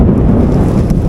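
Heavy rain and strong wind rush over a motorcycle rider on a delivery job, a loud continuous roar of buffeting wind and downpour close on the microphone for about a second, with no speech.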